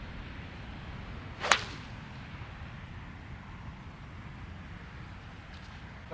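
A golf club swings through the rough and strikes a ball, a single sharp whip-like crack over faint outdoor background noise, with no talking.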